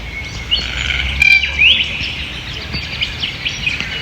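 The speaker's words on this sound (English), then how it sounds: "Yeah, the old red-tailed cockatoo." A red-tailed cockatoo near Bourke, New South Wales, gives a few harsh, rising calls in the open, fairly close and clear against faint background noise, with no voices.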